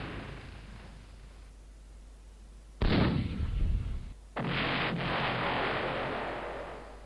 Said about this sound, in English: they're concentrating their fire on Meager